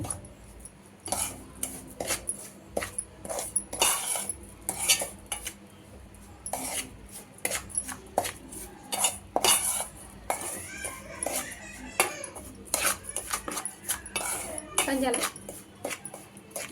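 A spoon stirs a sajja (pearl millet) flour laddu mixture with sugar in a metal pan, making repeated close scraping clinks and knocks in an irregular rhythm while a person talks in the background.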